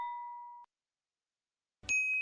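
A clean notification bell dings once and rings out briefly, then after a silent pause a second brighter chime strikes and sustains, like an on-screen subscribe alert.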